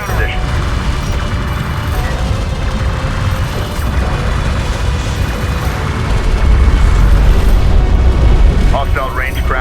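Heavy, rumbling explosions from a fire support strike in Homeworld: Deserts of Kharak, booming continuously under mechanical battle noise and radio chatter, growing louder toward the end.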